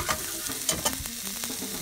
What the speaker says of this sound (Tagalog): Gisa natin hanggang maging translucent na yung kulay niya.